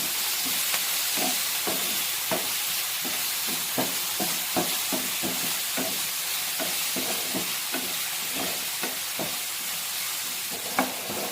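Onion, green chilli, tomato, salt and turmeric sizzle steadily in a pan, a continuous frying hiss punctuated by regular scraping stirs, close and clear with no voices.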